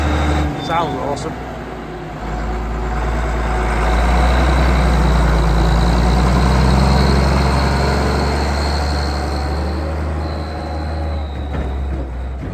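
A tractor engine runs steadily and loud at close range while draining work goes on, a continuous low rumble that swells in the middle and eases slightly toward the end, with faint mechanical whine above it.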